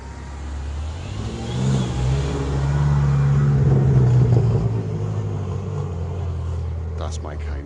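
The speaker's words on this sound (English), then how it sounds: "M5 coming through here." A BMW M5 rolls through a busy car meet, its engine a steady mid-range rumble that swells and holds as it passes fairly close, with crowd chatter and other vehicles in the background.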